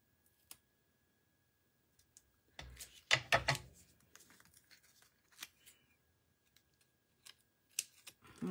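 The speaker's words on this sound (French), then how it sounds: "J'ai dû couper un peu trop grand." Scissors cut paper for a handmade shaker card, a cluster of crisp snips and rustles in the middle among sparse clicks and handling noises in a quiet room.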